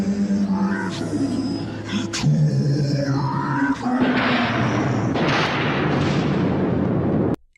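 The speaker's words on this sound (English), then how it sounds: "This is literally the most scariest avalanche I have ever seen in my life" Avalanche rumbling through a cave in an animated Little Engine That Could film, with a deep sustained roar that builds into a loud, broad crash after tonal score notes, ending abruptly.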